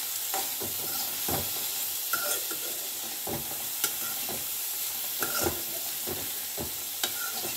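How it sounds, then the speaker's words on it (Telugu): Washed coconut pieces frying in oil for a chutney, stirred with regular sharp scrapes against the pan over a constant hissing sizzle, close and unaccompanied by speech. "బాగా కడిగి ముక్కలుగా చేసుకున్న కొబ్బరి అందులో వేయించి అదే నూనెలో కొంతవరకు వేయించుకోవాలి"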